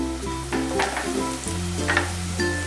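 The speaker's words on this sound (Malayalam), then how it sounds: "ഒരു ബ്രൗൺ ഷെയ്ഡ് വരുന്ന പോലെ വഴറ്റണം" Onions sautéing in a pan for a mushroom capsicum butter masala, a steady close sizzle with soft stirring scrapes throughout and a brief shift in tone midway.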